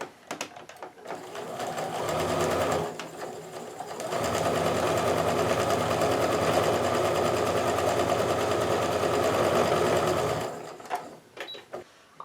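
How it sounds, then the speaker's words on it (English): A sewing machine stitches quilt block pieces into rows, running in two steady, close bursts: a short run, a brief pause, then a longer continuous stretch before stopping. "I'm going to go ahead and sew the rest of these into rows as well"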